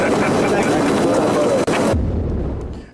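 A loud, broadband roar of airplane noise fills the air outdoors, steady for about two seconds before cutting to a lower rumble that fades away.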